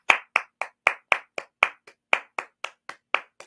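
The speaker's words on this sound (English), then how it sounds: "So I'm gonna clap, like these ones are clapping as well." Fourteen sharp hand claps at a steady, slightly uneven pace, close and clear with brief gaps of silence between each, from a fan watching an FA Cup quarter-final football match between Middlesbrough and Chelsea.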